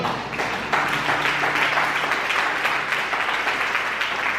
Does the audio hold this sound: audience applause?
yes